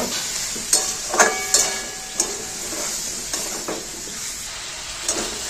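Chopped tomato sautéed with ridge gourd and potatoes fries in a pan with a steady hiss and sizzle, punctuated by repeated scraping strokes and knocks of a spatula.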